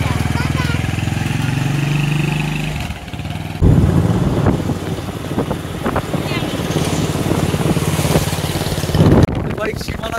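Motorcycle engine running steadily throughout a ride, with a brief drop around the third second before the steady drone resumes, loud and close.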